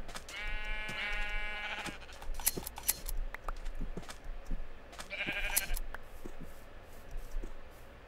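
Sheep bleating in a survival video game, two distinct wavering bleats several seconds apart over a soft ambient bed with light clicking sounds.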